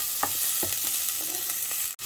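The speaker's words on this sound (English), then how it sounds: "That's frying, and that's gonna give a nice delicious flavor." Diced garlic frying in a pan while being stirred, a steady close sizzle with a few soft scraping stirs and a brief gap near the end.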